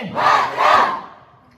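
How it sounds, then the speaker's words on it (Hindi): Crowd shouting patriotic slogans at an Indian gathering, two loud massed vocal bursts in quick succession, a call answered in unison, then fading out. "एक बार नारे लगाएंगे"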